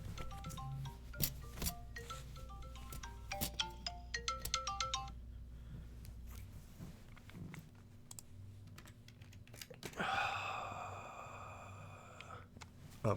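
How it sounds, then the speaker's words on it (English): A phone alarm rings out near a laptop, a repeating melodic tone over steady background hum, preceded by a stretch of computer keyboard typing; a harsher, louder burst of the ringing returns near the end. "Oh, phone alarm."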